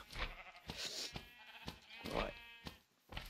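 Sheep in the video game Minecraft give a few faint, quavering bleats amid quiet background clatter, low in level and without clear speech.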